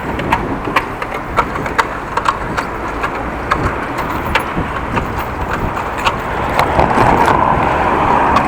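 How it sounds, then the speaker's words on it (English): Yellow bicycle rattling as if falling apart on a Dutch bike ride, heard as a steady, fairly loud metallic clattering with repeated sharp ticks and knocks over continuous road and wind noise, growing slightly louder toward the end. "Sounds like the yellow bike in front of me is falling apart."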